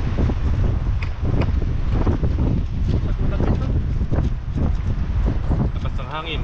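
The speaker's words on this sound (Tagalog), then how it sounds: "Lakas ng hangin." Strong wind roars and buffets the microphone outdoors, a constant loud rush that lasts the whole stretch, with people talking through it.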